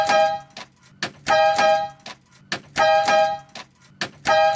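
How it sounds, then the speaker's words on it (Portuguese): An air horn on a Volkswagen Kombi van gives a string of short, fairly weak toots in an irregular rhythm, with near-silent gaps between the blasts, low on air. "Fraquinho o ar, né? Mas deu uma buzinadinha."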